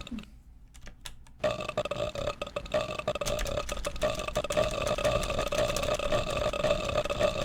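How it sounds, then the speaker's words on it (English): Burps in an animated Pokemon Vs. Aliens piece, one short burp near the start, then a long, rumbling carbonated belch that runs on steadily for several seconds, alone and fairly close. "That enough burps for you?"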